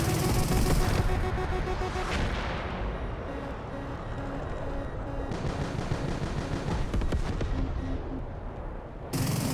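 Dense, continuous machine-gun fire from Metalstorm plays as a steady roaring rattle, loud and unbroken for the whole stretch. Engine drone and other game noise sit underneath it.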